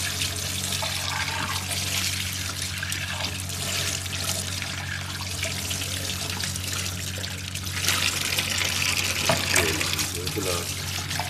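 Tap water running steadily into a sink while a glass is washed, a continuous close splashing trickle that gets louder and busier near the end.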